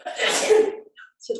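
A single sharp sneeze bursts out nearby, followed by a short pause and faint breathy sounds.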